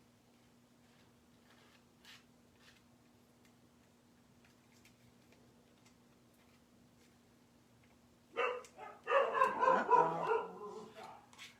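After a long quiet stretch with faint ticking, a group of dogs bursts into loud, overlapping barking close by near the end, and a person says something briefly.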